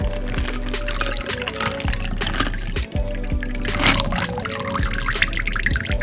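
Juice pours steadily into a martini glass, a continuous splashing trickle over a loud background of steady beat-driven music.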